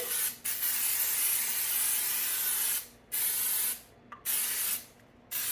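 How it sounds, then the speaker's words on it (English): Several bursts of aerosol cooking spray hiss steadily onto a cake pan, separated by brief pauses, close and loud. "we're just going to spray it good and get this in the oven"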